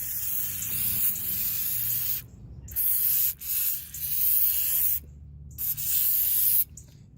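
Aerosol brake cleaner sprayed onto the brake parts of a 2005 BMW Z4 during a brake replacement, in four loud, close hissing bursts of one to two seconds each, separated by short silent gaps.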